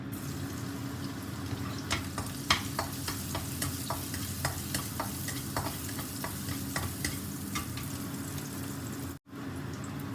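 Garlic frying in a little oil for Thai shrimp pad kaprao, a steady close sizzle with repeated scraping stirs of a utensil in the pan, with a brief dropout near the end and no talking.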